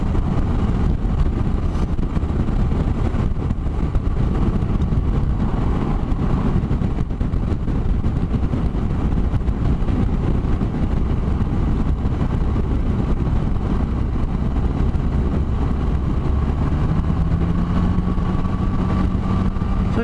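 A 2017 Suzuki Burgman 650 Executive automatic scooter being ridden, its engine a steady close drone under heavy wind rush, with a rising whine near the end as it picks up speed.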